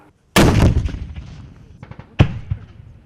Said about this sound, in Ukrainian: Вони вчилися стріляти з пістолета, автомата, кулемета і гранатомета.